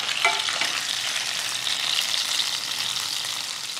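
Chicken pieces frying in a pan over medium-high heat for braised balsamic chicken, a dense, loud, even sizzle heard up close without a break.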